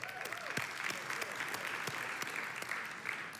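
Audience at an evening recovery gathering at Cokesbury applauding after the Serenity Prayer, with steady, even clapping throughout that sounds moderately close.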